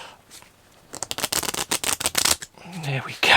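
Playing cards riffled in a rapid burst of crisp flutters, close and loud, followed by a brief clatter as the deck settles; a voice murmurs faintly underneath.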